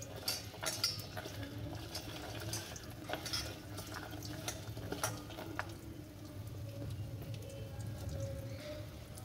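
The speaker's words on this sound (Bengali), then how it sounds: "বেগুনগুলো আমার এক পিঠ ভাজা হয়ে গেছে, আমি আরেক পিঠ উল্টে দিলাম।" Eggplant slices frying in hot oil in a village kitchen, a steady close sizzle with scattered crackles and pops as the pieces are turned.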